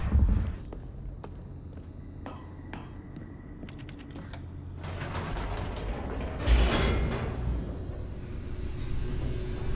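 Large door mechanism in the video game The Stanley Parable, a long mechanical sequence of clicks, ratcheting and creaks building into a louder grinding rumble that swells midway and continues steadily, with no voices.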